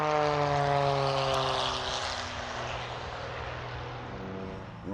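A propeller airplane flies aerobatics at an airshow over an airfield, its engine droning loud and steady with shifting harmonic pitch as it swoops past, fading slightly toward the end.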